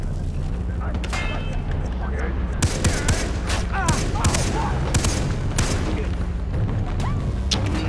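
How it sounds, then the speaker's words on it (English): Sniper rifle and other gunfire in the Far Cry 3 video game, several loud sharp shots and bursts in quick succession over steady game background noise, with a player talking over them. "I have a sniper rifle."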